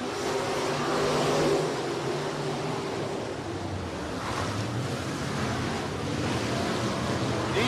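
Limited late model race cars roar around a fair speedway track in a dense, continuous wash of engine noise, loud and somewhat distant, with wind buffeting the microphone and no speech over it.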